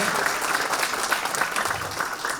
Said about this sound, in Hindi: एक बार उनका जोरदार तालियों से स्वागत कीजिए।